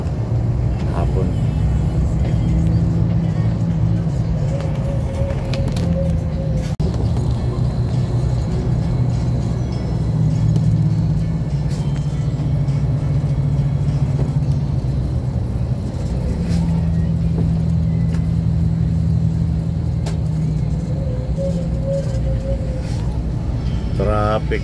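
Road traffic near the Santo Tomas public market in Batangas sets up a steady, loud engine rumble with idling and passing vehicles, close by and continuous, while a voice can be heard talking over it.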